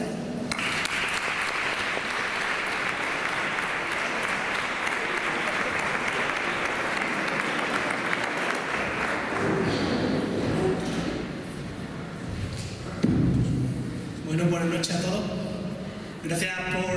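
Applause breaks out for a speaker at a gala poster presentation in Ronda, a dense sustained clapping from a crowd that carries on for around ten seconds before thinning, with voices talking over the fading end.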